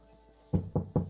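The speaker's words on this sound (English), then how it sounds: "Knock on wood" Three firm knocks on wood in quick succession, close and loud, each a sharp thud with a short decay, heard alone after a brief quiet stretch.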